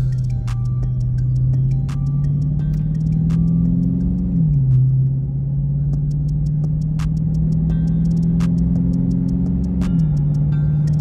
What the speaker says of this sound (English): I'm gonna throw the car in track mode so you guys can kind of hear what it sounds like